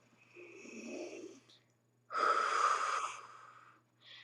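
A deep breath in followed by a long, audible exhale, close and breathy with a quiet gap between them and a slight start of another breath at the end.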